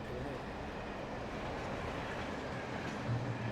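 A train rumbles past in the horror video game Alan Wake, a steady low rolling drone with faint rail clatter that stays fairly quiet throughout.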